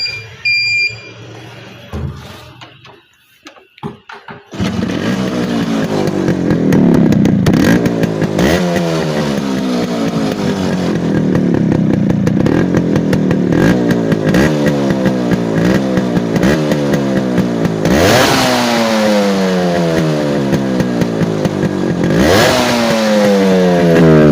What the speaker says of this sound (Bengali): তো বাইকটা যদি সাউন্ড শোনাতে চাই